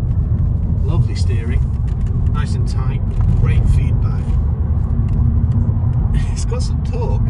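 A petrol Skoda Fabia drives along the road, its steady engine and tyre rumble loud and continuous throughout, with passengers talking over it now and then.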